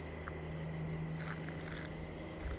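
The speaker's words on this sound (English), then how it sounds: "I want to go out there and just hear the sounds of the frogs and the crickets" Crickets chirp in a steady high trill at night around a cabin in a hollow, with a constant insect drone and faint scattered calls in the background, no talk.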